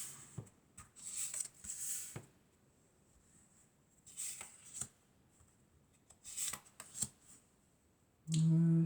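Tarot cards are shuffled and drawn in quiet bursts of soft papery rubbing and flicking, with pauses between them and a louder bump near the end.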